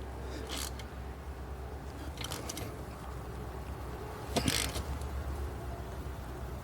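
Faint clicking of a ratchet wrench tightening brake bolts on a Mercedes S550, a few short bursts of ratcheting spread out, with a sharper cluster near the end, no talking.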